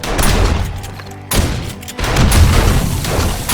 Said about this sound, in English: Here we're going to start using the rocket launcher.